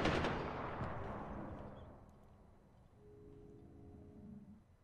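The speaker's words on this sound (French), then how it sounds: "J'ai entendu des coups de feu" Gunfire in the video game Far Cry 4 opens with a loud, booming blast that rolls off into a long fading echo, followed by quieter low rumbling and distant tonal hum.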